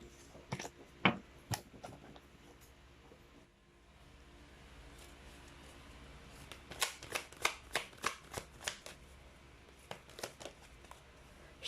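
A deck of tarot cards is shuffled close by, starting with a few quick riffles and slaps, then a brief lull, then a longer run of rapid, crisp card flicks and snaps.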